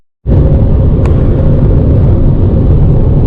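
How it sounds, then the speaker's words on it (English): Van driving along a road through Bruges in clear, dry weather: a steady, loud low engine and road rumble carrying on unbroken after a sudden start, with no talk. "I'm just driving through Bruges at the minute."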